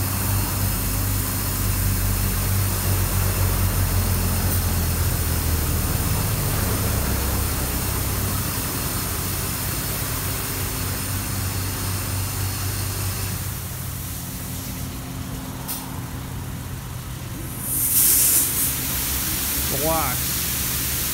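Rinse water spraying over a car inside a LaserWash G5 touchless automatic car wash at Auto Wash near 7 Springs, Bedford PA, a steady loud hiss with machinery rumble, rising briefly near the end.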